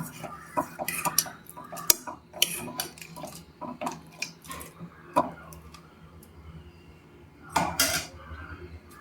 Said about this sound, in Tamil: இப்போ ஒரு கிண்டு கிண்டி விட்டுடலாம்